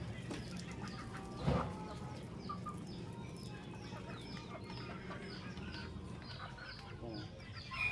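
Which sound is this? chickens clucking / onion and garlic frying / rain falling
chickens clucking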